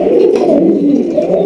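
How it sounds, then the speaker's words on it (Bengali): A pair of large king pigeons cooing close by, with a steady, continuous low rolling coo that carries through the whole stretch without pause. "এখানে রয়েছে একজোড়া কিং কবুতর"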